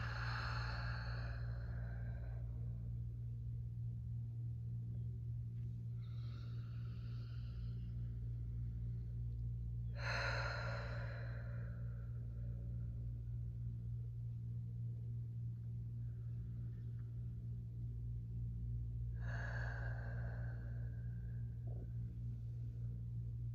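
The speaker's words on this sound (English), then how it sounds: "Three more deep breaths." Slow, deep breathing during a seated yoga stretch, with long airy inhales and exhales spaced several seconds apart over a steady low hum, close and soft, and no talking.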